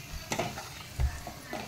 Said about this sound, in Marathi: हलवलं व्यवस्थित असं उलट्या चमच्याने हलवलं